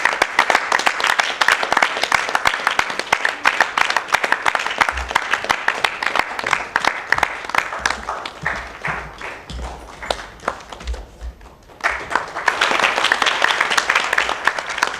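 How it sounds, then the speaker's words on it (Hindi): Theatre audience applauding the stage crew after a Hindi-language play performance, a sustained dense roar of many hands clapping, dipping briefly near the end before surging again. "जोरदार ताली बजेबाक चाही"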